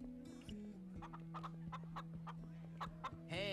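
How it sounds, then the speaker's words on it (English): Chickens in the Minecraft Story Mode Season 2 video game give a series of short, soft clucks over a steady background game-music drone, with a brighter chirpy burst at the end. "Yeah, so there's some chickens over here,"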